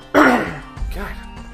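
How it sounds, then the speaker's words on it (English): A loud, harsh cough bursts out, followed by a softer throat-clearing cough, close to the listener. "edit out those coughs if I remember"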